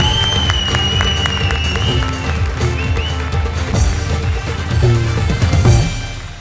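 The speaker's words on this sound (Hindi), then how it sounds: "जोरदार तालियां राजीव के लिए।" Loud studio-audience applause with some cheering for Rajiv on a comedy show stage, sustained and dense throughout, building briefly near the end before easing off.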